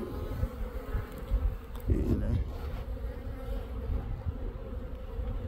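Honey bees buzz steadily around backyard hives, including a hive that has gone queenless, a continuous close droning swarm with a person briefly speaking partway through.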